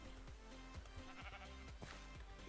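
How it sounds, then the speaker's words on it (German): Sheep in a Minecraft-style video game bleat repeatedly in short wavering calls, faint and somewhat distant, over a dense background hum. "Oh, ich habe mir gleich Schafe auf mein Grundstück geholt. Die nerven jetzt halt schon mit ihren Gemähen."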